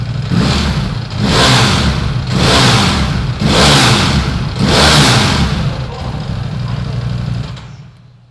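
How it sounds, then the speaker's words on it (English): A 2020 Ducati Panigale V4S motorcycle engine is revved to about 7,000 RPM in five quick, loud surges, each swelling and dropping back, before settling and fading away near the end. "Have a bit of revs."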